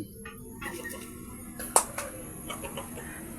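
Native labuyo gamecocks, kept as fighting roosters, cluck faintly with one sharp click in the middle over a low background hum.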